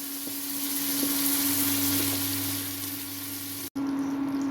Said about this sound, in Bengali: আমার চিংড়িটি ভালো করে ভাজা হয়ে যাবে